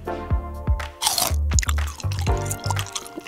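Crunchy, cheesy food is chewed up close during a giant-versus-tiny food challenge, with a run of wet, crackling bites and squishy chews in quick succession.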